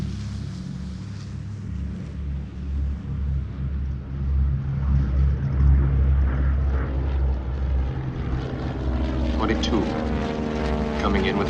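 A B-17 Flying Fortress bomber with its left inboard engine dead, returning to an airfield, a deep droning propeller roar that swells as it draws nearer, under a narrating voice.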